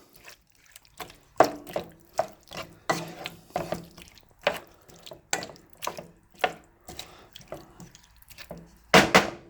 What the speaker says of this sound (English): 2 teaspoons of sugar. I'm going to stir all this up.